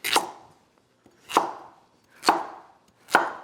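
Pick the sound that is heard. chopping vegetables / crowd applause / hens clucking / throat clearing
chopping vegetables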